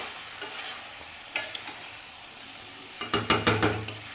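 Capsicum and spices frying in a pan, a soft steady sizzle with a few spoon scrapes, then a quick burst of close stirring strokes near the end.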